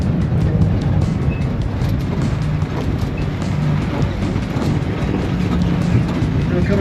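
A tour tram rolls through the Pima Air and Space Museum grounds in Tucson, Arizona, with a loud, steady rumble and faint clacking that carries on without a break.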